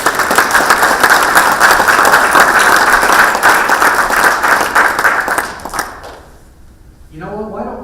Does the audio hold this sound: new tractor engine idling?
no